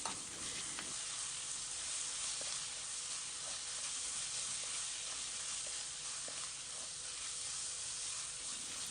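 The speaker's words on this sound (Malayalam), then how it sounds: "ഉള്ളി ഇവിടെ കുറച്ച് സമയം വഴറ്റിയതിന് ശേഷം നമ്മൾക്ക് ഇതിലേക്ക് ഇഞ്ചി വെളുത്തുള്ളിയുടെ പേസ്റ്റ് ആഡ് ചെയ്ത് കൊടുക്കാം." Onions sautéing with ginger garlic paste in a pan for chicken rice sizzle in a steady, continuous frying hiss close by, with faint stirring clicks scattered through and no voices.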